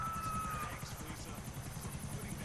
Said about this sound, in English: Are you in a helicopter?